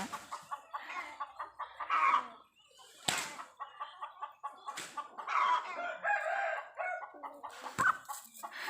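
Chickens cluck and cackle repeatedly in a barnyard, with rhythmic bursts of calls and a few sharp knocks, fairly close by.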